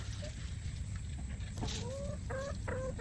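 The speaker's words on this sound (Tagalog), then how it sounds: "Gusto ng mga manok lumabas." Several faint chicken clucks and short squawks come over a steady low background hum, scattered irregularly toward the end.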